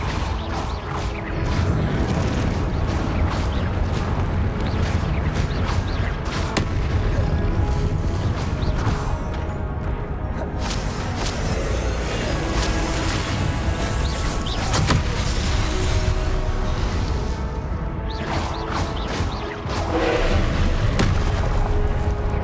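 Confringo and Depulso spell impacts during Hogwarts Legacy combat, a dense, continuous barrage of booming blasts, crashes and sharp hits layered over loud game action, sustained throughout without voices.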